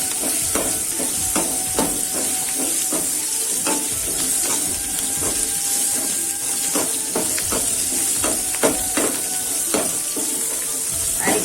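Gunda relish mixture is stirred in a hot pan: a steady oily sizzle and hiss runs throughout, broken by frequent spoon scrapes and clicks against the pan. No one speaks.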